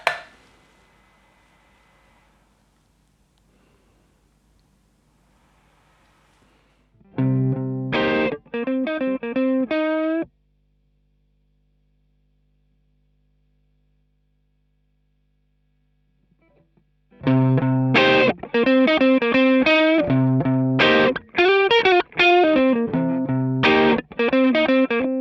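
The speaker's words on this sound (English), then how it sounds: "So let's add the drives of the Nux Cerberus. This is a blues breaker style circuit, which is heavily inspired by the GHS Morning Glory." Guitar through the blues breaker style drive of a Nux Cerberus pedal: two bursts of overdriven chords and riffs, each a few seconds long, separated by silence, with no talking.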